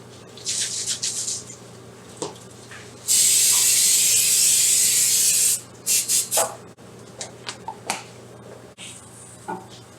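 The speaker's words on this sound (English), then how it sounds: "we're going to go ahead and coat it with some cooking spray" Cooking spray hisses in one long, loud burst of about two and a half seconds onto a warm pan, with short clicks and light sizzling taps before and after.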